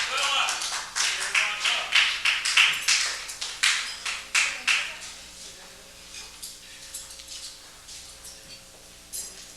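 A nightclub audience at the Natural Fudge Cafe in 1985 welcomes comedian Phillip Flores with a burst of clapping and cheers in the opening seconds, which thins out and fades to a quiet room hum.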